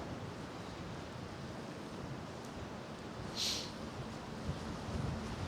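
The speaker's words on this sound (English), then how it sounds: "Whoa, what a wind." Strong wind gusting at a beach with surf, a steady broad roar of wind noise buffeting the microphone throughout, with a brief louder hiss near the middle.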